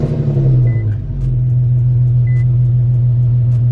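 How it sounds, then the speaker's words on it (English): An Infiniti Q50 engine idling close by with a deep, throaty rumble and a rough, puttering exhaust note from a large exhaust leak that stays steady throughout. "this car has a fat exhaust leak"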